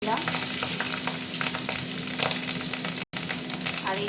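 Green chillies sizzle and fry in hot mustard oil for a Bengali katla fish and potato curry, a steady close hiss and crackle that runs the whole stretch with a very brief break near the end.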